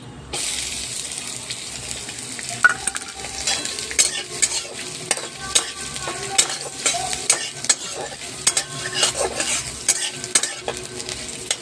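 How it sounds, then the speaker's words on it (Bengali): Onion and green chillies sizzle in hot oil with cumin seeds while a spoon scrapes and clicks against the pan in irregular stirring strokes, close and fairly loud. "এরপর আমি পেঁয়াজ আর কাঁচা লঙ্কা দিয়ে দিচ্ছি।"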